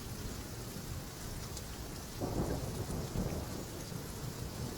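Steady heavy rain hisses throughout, and a low roll of thunder swells in the middle before fading back into the downpour.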